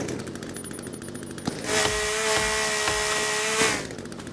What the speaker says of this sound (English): The chainsaw is also much faster at getting rid of these stumps too